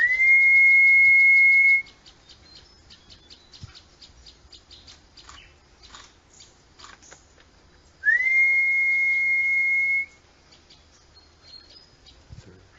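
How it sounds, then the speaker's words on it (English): A long, steady high whistle used to call wild birds sounds twice, separated by several seconds of quiet with faint bird chirps and rustling in between. "Through this special whistle, the birds would know that Mr. No has come"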